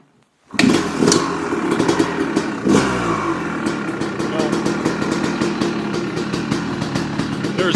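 A 2003 Honda CR250R two-stroke dirt bike kicks into life and keeps running, loud and close, with a burst of revving just after it catches before settling into a rough, popping idle.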